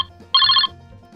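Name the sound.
telephone ringing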